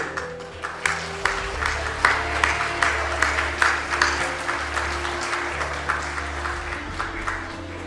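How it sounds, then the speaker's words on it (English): Warm audience applause for teachers at a youth art exhibition, a steady patter of many hands with sharper individual claps, sustained throughout over a low music bed. "I was going to ask you to applaud at the end, but this is more appropriate."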